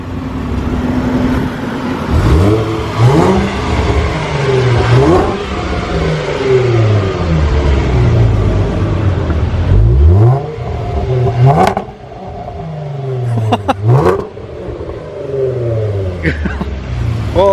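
Jaguar F-Pace S engine revving through a newly installed exhaust, with repeated loud rising and falling throttle blips and crackles close by, roughly ten revs spread across the stretch, with some background voices.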